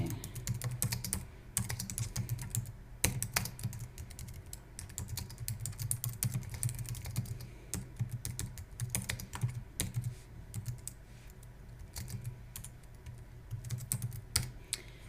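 A blog entry typed on a computer keyboard: quick, irregular clicks of close keystrokes in bursts with short pauses, steady throughout and with no voices.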